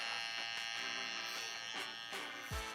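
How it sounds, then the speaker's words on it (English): Electric hair shavers trim along a hairline during a V-shape fade haircut, a close, steady high buzz that shifts slightly in pitch as the blades move over the head. "where I'm using my shavers now"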